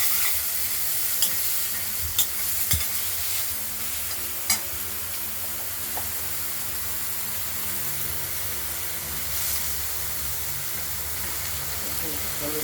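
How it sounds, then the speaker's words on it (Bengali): Thinly cut banana stem and potato curry being stirred in a frying pan gives a continuous sizzle and hiss, with a few sharp clinks of the spatula against the pan early on and a voice talking now and then. "ভাড়ালিটা দিয়ে দেওয়া হলো, এবার নাড়াচাড়া দেবো।"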